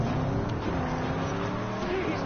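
A car engine in the Mad Max video game drones steadily throughout, a continuous loud motor roar with a shifting rev and no clear voice.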